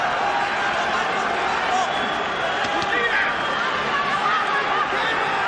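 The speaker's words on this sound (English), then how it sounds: "Crowd nervously expectant" Boxing arena crowd in the final minute of a twelfth round, nervously expectant: a steady, dense roar of chatter and murmur filling the hall at constant loudness, with no single voice standing out.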